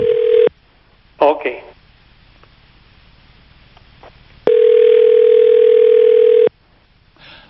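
Telephone ringback tones on a call line: two long steady beeps separated by a gap, loud and close, with a short burst of dialing tones and a brief spoken word in between.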